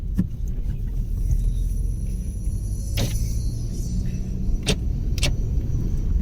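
A car drives along a road, a steady low rumble of engine and tire noise heard from inside the cabin, with a few short clicks and taps over it.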